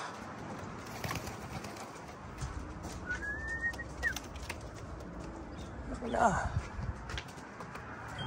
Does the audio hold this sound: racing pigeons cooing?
yes